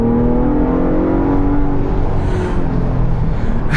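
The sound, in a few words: SUV exhaust revving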